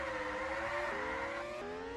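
F1 race car engines in the Ultimate Racing 2D game at the Bahrain GP, a steady high whine with clear upshifts as the pitch drops and climbs again, continuous and upfront with no voices.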